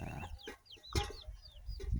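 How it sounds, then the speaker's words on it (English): Chickens and young chicks foraging on a rural homestead farm give short scattered clucks and chirps, with a few sharper calls over low background rustle. "Beautiful chickens and baby chickens"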